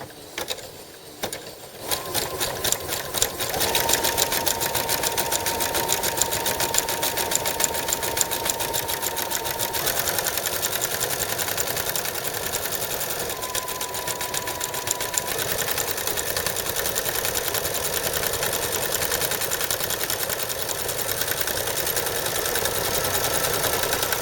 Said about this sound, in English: So let's start with our zigzag stitch. I'm going to go nice and steady.